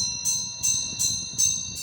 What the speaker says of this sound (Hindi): ऐसी बढ़िया घंटी बज रही है कि तबीयत खुश हो गई है।